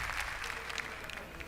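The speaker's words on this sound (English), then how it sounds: "Even the fans out in the studio are out there clapping." A studio audience of fans clapping during a country music broadcast, a dense burst of applause from a crowd that continues steadily throughout the short moment.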